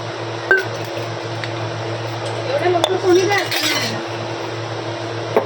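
Close, steady hand-washing of kitchen dishes, with scattered clinks of steel utensils and plates knocking together over a constant low hum, a few sharper clatters standing out.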